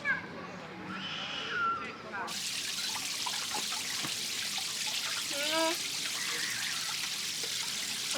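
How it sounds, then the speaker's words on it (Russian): Water rushes steadily from a water pipe outdoors, a loud, close hiss and splash under people talking. "Откуда она течет? Из водопровода."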